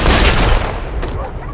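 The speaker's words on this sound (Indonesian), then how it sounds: "dia pun langsung dijedor oleh salah satu anak buah Zakia yang paling beringas bernama Pascal." Gunfire in a crime action film, loud dense bursts of shots layered with rumbling booms and echoes, cinematic and continuous over a short moment.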